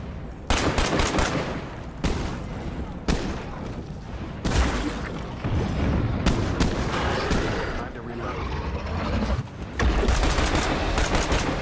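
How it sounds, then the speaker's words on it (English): Heavy booming shots from a semi-automatic shotgun in State of Decay 2, fired in quick succession amid dense game noise, with voices talking over the blasts. "Dude, my shotgun is semi-automatic."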